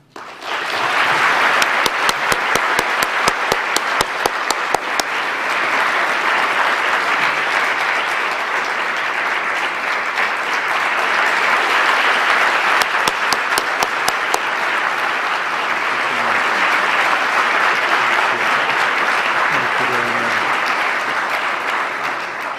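Sustained audience applause greeting the Aga Khan at Brown University, a large crowd clapping loudly and continuously for over twenty seconds, with sharp individual claps standing out early on.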